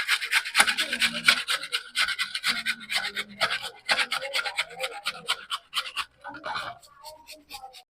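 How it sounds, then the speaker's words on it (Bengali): Potatoes rubbed against a grater machine while making a crispy potato-semolina snack, giving a steady, rhythmic series of close rasping strokes that continue for several seconds with no talking. "এখন আমি আলুগুলোকে মেশিনে এইভাবে ঘষে নেব।"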